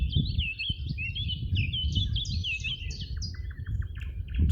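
Several birds chirp and trill continuously, bright and fairly close, over a low, steady rumble of wind or distant background noise.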